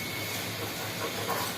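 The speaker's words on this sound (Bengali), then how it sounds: "ডালটা বলক আসছে, ডালটা একটু ফুটুক" Dal (lentils) simmering toward a boil in a pot in a home kitchen, giving a steady, soft hiss and bubbling wash at low level with no talk.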